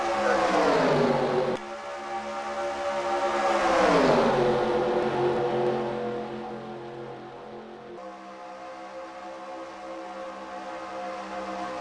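Race car engines roar loudly. Their pitch bends downward as they pass, and the sustained drone continues afterward.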